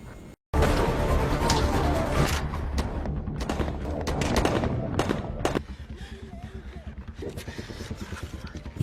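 Gunfire in a film scene, with a sharp burst of shots followed by rapid, loud cracks and rattling bursts, dense and close, fading into quieter repeated pops toward the end.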